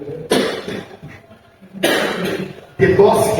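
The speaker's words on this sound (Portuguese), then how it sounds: "que nem eu estou aqui muito cheio de tosse" Several hard coughs from a man preaching at a theology lesson, loud and close, arriving in three separate bursts.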